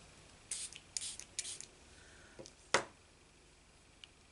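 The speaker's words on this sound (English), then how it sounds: "with this spritzer or a spray bottle, whatever you've got, you want to spray this" A handheld spray bottle spritzing water onto paper craft work, several short sharp hissing bursts in quick succession followed by one louder spritz, close up in a quiet room.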